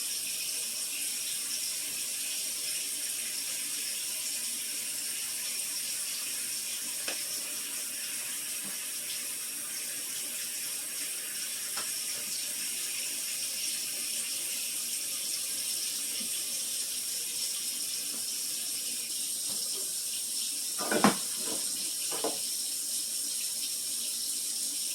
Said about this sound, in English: Now I just got plain hot water, getting rid of all the soap residue.